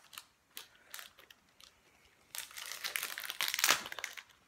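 Scissors cut through crinkly plastic packaging around a very hot chilli, close up: a few short crackling snips and rustles, then a denser, louder stretch of crinkling and cutting near the end, with no talking.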